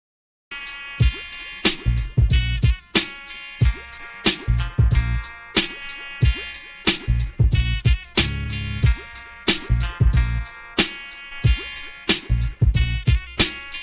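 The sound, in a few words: hip-hop instrumental beat playing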